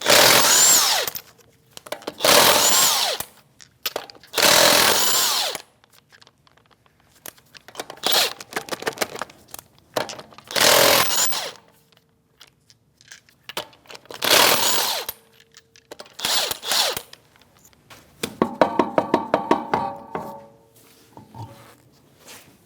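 A power tool spins off the lug nuts on a Chevrolet Malibu wheel with a 19mm socket, delivering repeated loud bursts of whirring and rattling separated by quiet pauses.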